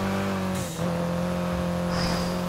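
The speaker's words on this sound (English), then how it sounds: "This car's nice. It's got a nice engine sound to it. It's got a nice blowback." A car engine in the racing game Need for Speed: Heat drones steadily at a high, sustained pitch, loud and close, with a brief dip and a short hiss partway through.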